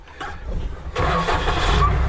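A tractor engine cranks at the start of a new season, a brief low churn followed by a loud broadband surge near 0.9 seconds as it catches and keeps running steadily close by.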